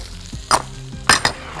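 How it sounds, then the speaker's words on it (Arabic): Garlic and ginger hit a pan for Chinese-style fried zucchini, giving a soft sizzle with three short louder bursts of frying and stirring. "هنزل بالثوم وهنزل بالجنزبيل"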